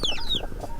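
Hens cluck in a short, close burst of fowl calls with a few sharp higher notes, nothing else audible around them.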